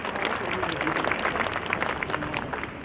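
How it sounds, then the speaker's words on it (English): A crowd at an outdoor Memorial Day ceremony applauds a country band, dense steady clapping at moderate distance lasting the whole moment, with a voice briefly mixed in. "to our own Cereal City Country Band, give them a big round of applause"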